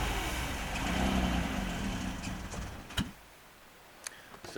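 Chaparral boat engine on a lake given three-quarter throttle, a low steady drone that fades after a few seconds, followed by a couple of sharp clicks.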